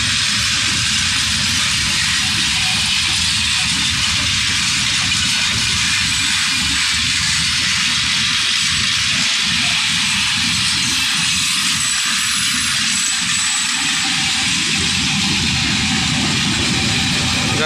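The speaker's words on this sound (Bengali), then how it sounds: "এই মুহূর্তে ট্রেনটি প্রায় চলে যাচ্ছে" The Rangpur Express intercity train pulls out of Tangail bound for Rangpur, producing a loud, continuous rumble and rushing hiss close by that holds steady for the whole stretch without pause. No voices are heard.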